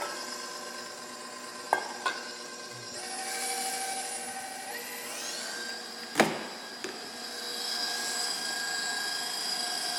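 A tabletop stand mixer runs with a steady motor whine whose pitch climbs as it speeds up, punctuated by a couple of sharp clinks.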